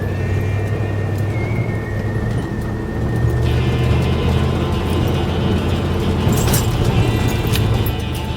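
A bullnose truck rolls along a gravel mountain road, its engine droning steadily under a continuous rough crunch of tires on loose stones, close and fairly loud throughout.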